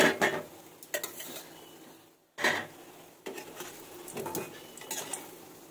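Small wok clattering as fried lentil fritters are lifted out with a metal utensil, several short scraping and clinking bursts separated by brief pauses, with faint frying in the background.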